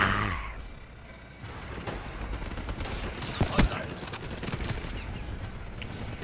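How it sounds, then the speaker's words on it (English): Gunfire crackles in a Call of Duty match: scattered, distant-sounding shots and short volleys over a rough background hum, with one sharper close crack midway. "Where the fuck am I being shot from?"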